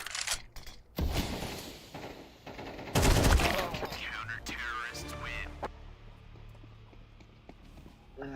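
Desert Eagle pistol fire in a shooter video game, a few loud, sharp shots in quick bursts among other game noises and footsteps, with people talking over it.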